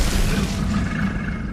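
The Bombarda spell in Hogwarts Legacy bursts with a deep, booming blast that fills the moment, loud and low with a rumbling tail, heard alone without talk.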